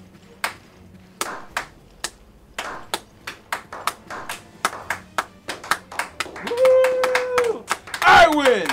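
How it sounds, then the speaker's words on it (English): Hands clapping in a steady, evenly spaced run of sharp claps at close range, with an electronic ping and bright tones from a Resident Evil Revelations game rising near the end. "give him a clap"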